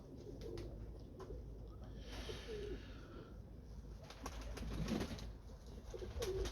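Pigeons coo softly in a loft, low murmuring calls scattered under faint background noise and a brief rustle, fairly quiet and close by.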